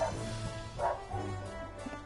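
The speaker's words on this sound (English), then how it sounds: "Due to the dog barking next door, I'm actually going to end the stream now" A dog barking next door, muffled and fairly faint, with a couple of short barks heard through the wall over a low background hum.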